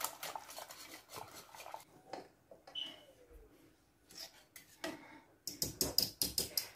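A spoon scrapes and clinks against a metal pot in uneven bursts, fairly quiet and close, with short pauses between rounds of stirring.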